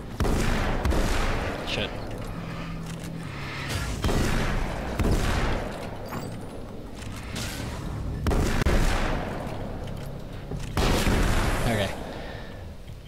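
Sawed-off shotgun blasts in the game Alan Wake's American Nightmare, several loud booming shots spaced a few seconds apart amid continuous in-game noise, with someone talking briefly.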